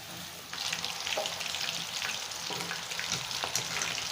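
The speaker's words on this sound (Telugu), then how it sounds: "ఇవి ఇప్పుడు ఆల్మోస్ట్ ఫ్రై అయిపోయాయి." Chicken Manchurian pieces frying in hot oil, a steady close sizzle with crackles and occasional spatters, heard alone with no talking.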